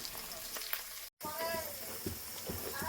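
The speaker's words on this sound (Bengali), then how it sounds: "এই যে এখানে আমি কাঁচা লঙ্কা রসুনটা হালকা করে ভেজে নেব" Green chillies and garlic fry in a pan, a steady close sizzle with crackles and spits from the hot oil, broken once by a very brief dropout.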